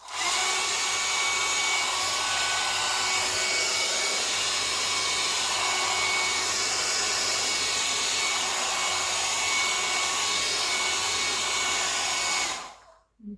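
A hair dryer blowing on watercolor paint to dry the surface, a loud, steady close whirring roar that runs unbroken for about twelve seconds before cutting off.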